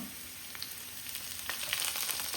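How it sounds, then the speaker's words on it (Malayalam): Onions, dried red chilli and curry leaves frying in oil, making a steady, faint crackling sizzle with small scattered pops, heard close and alone. "ഒരു വറ്റൽമുളക് ഇട്ട് കൊടുക്കാം. കുറച്ച് കറിവേപ്പില ഇട്ട് കൊടുക്കാം."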